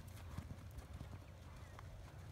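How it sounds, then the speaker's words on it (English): A horse cantering around a ring throws out a quick rhythmic run of muffled hoofbeats, moderately near. Wind and background noise sit around the hooves, and no one speaks over them. "And prepare to canter and canter."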